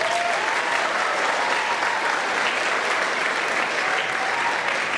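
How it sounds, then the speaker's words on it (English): Dense, sustained applause from an audience at a school band concert, many hands clapping together evenly throughout at a moderate distance. "How about another round of applause for the sun here?"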